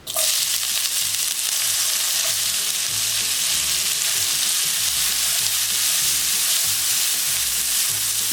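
Onions and garlic fry in a pan, giving a loud, steady, close sizzle that runs unbroken throughout with no talking.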